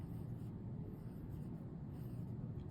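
Pen scratching steadily across paper as units are written out by hand during a math lesson on dimensional analysis, a continuous close scribble with no talk.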